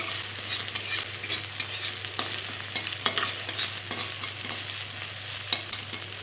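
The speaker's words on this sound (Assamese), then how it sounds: "দি ইয়াক মই এতিয়া ভাজি লৈছোঁ" Onion, chilli, bay leaf and ginger-garlic frying in a pan, a continuous close sizzle with scattered stirring scrapes and taps, no talk.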